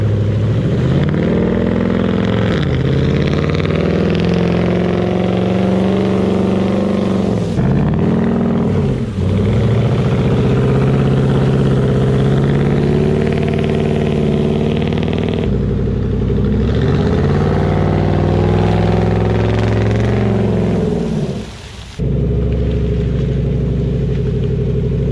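A 2018 Chevrolet Silverado pickup's engine roars loud and close while it churns through rain-soaked mud, revs rising and falling in long surges with brief dips and clattering bursts, steady and unbroken by speech.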